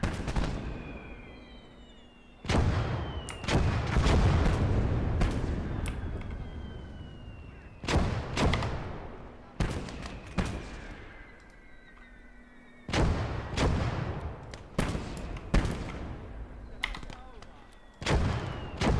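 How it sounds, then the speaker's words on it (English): Artillery and gunfire in the game Gates of Hell: Ostfront, Talvisota DLC: loud repeated blasts and shots with long decaying rumbles, spaced irregularly across the stretch. "Fire there."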